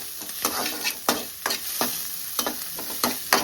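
Chicken curry stirring and frying in a pan, a constant hot sizzle broken by regular sharp spatula scrapes roughly every half second, close up with no talking.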